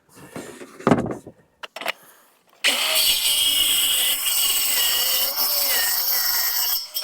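A saw cuts through a board straddled over the opening in a rolling workbench. A few loose knocks and thumps lead into a loud, steady cutting roar that runs continuously for about four seconds, then stops.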